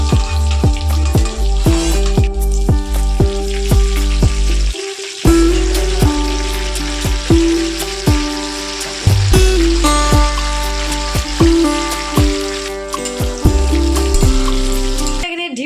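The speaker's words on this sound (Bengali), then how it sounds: "এখানে আলু ভাজা হচ্ছে" Paneer and potatoes frying in a home kitchen pan at breakfast, a continuous loud sizzle with crackling bursts and clinks, while a strong tonal music-like layer runs throughout and masks part of the frying.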